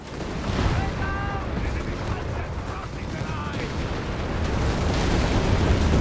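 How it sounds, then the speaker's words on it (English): Dense battle din from Company of Heroes 3, a steady wash of heavy gunfire and artillery rumbling throughout, with bursts and booms layered over one another and a commentator's voice mixed into the noise. "Heavy fire there being unleashed."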